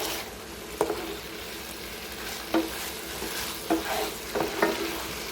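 Beef with green onion stir-frying in a very hot pan at 425 degrees, a steady close sizzle with occasional scraping and stirring clatters and no talk.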